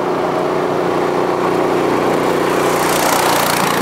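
A go-kart powered by a small Honda lawnmower-style engine drones loud and close, a steady buzzing roar whose pitch shifts slightly as it runs past, with no talking over it.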